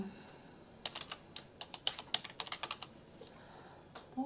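A burst of quick keystrokes on a computer keyboard while text is entered into a Google Sites page, soft close clicks in an uneven run after a quiet start, then silence with a faint click at the end.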